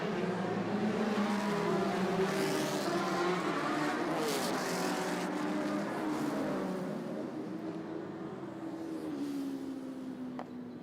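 Race cars pulling away at the start of a twelve-minute circuit race, engines roaring and rising in pitch as the pack accelerates, a dense loud drone that slowly fades.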